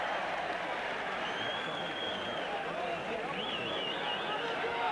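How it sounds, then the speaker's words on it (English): A rugby league crowd at Hull KR against Salford in 1988 roars in a dense, continuous wall of noise, screaming for a dismissal amid a near brawl, with a commentator talking over it. "Crowd screaming for a dismissal."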